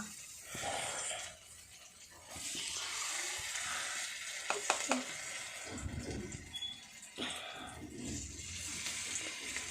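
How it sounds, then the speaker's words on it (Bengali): Chana dal fritters (bora) fry in oil, giving a fluctuating sizzle and bubbling with some clinks and splashy kitchen handling noises mixed in. No one talks. "ওই যে বড়া ভাজা ওখানটায় আছে"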